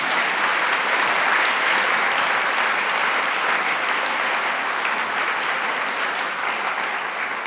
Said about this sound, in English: That almost warranted a round of applause